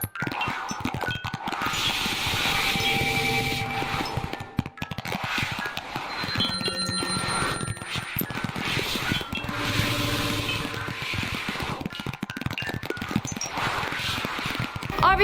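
Solar wind signal picked up by NASA satellites and rendered as sound, a dense eerie hiss and rumble with whistling tones and crackling pulses, continuous and fairly quiet.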